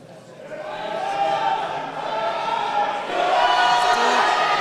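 A crowd of teammates from Team Exeter cheers and shouts steadily from the sidelines at a university powerlifting meet, a dense, sustained roar of voices that swells slightly toward the end.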